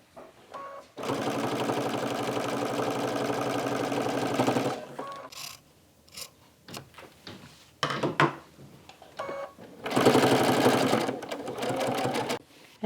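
A sewing machine stitches a quilt-as-you-go block, running in two long steady bursts separated by pauses filled with light handling, rustling and clicks as the quilt is turned.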